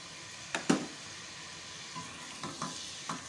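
Whole spices, black cardamom, cumin and black pepper, fry in a pot over low heat for mutton korma: a faint, steady sizzle broken by a few soft stirring scrapes.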